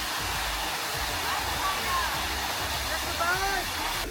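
Sticky Waterfall in Chiang Mai, Thailand, roars as a steady loud wash of falling water that fills the whole scene, with faint voices and bird calls over it.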